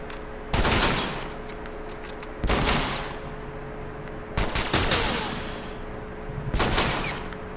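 Bursts of rapid automatic gunfire in the video game The Last of Us arrive in four separate volleys spaced about two seconds apart, loud and sharp against a quiet low hum, with no voices.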